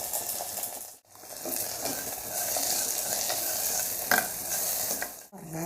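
Onions, curry leaves and chopped tomato sauté in a pan for a village-style tamarind curry with elephant yam, a steady close sizzle with stirring scrapes and two short breaks, no voices.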